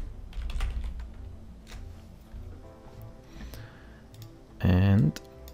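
Typing "regedit" into the Run box on a Windows 10 computer keyboard, a short burst of close keystroke clicks, followed by a loud louder buzzing tone near the end.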